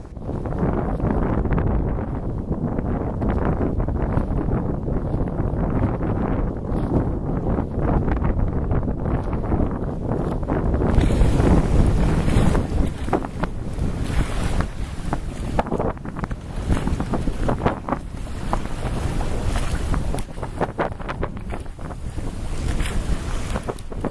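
Steady, blustery wind roars across the microphone over the rush of water along a sailboat's hull, sailing close-hauled on Long Island Sound, continuous and loud with gusts rising midway.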